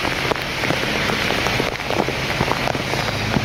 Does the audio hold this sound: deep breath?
no